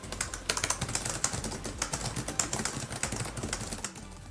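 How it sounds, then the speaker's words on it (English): Rapid typing on a Cherry ultra low profile mechanical keyboard built into an Alienware laptop, a dense stream of crisp, close key clicks with short 1.8mm travel, steady and alone throughout. "The system I'm showing you today has the Cherry Ultra Low Profile True Mechanical Keyboard."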